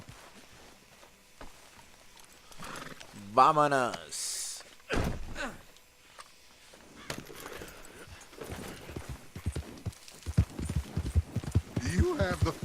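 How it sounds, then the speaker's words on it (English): Horse hooves clip-clop in the video game Red Dead Redemption 2, a run of quick, moderately loud hoofbeats mixed with a snort and game characters talking. "I'll take his horse."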